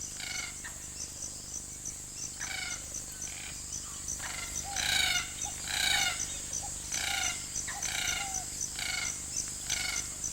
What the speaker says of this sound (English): These rare Gordian finches have found a finch-sized hole not far from a spring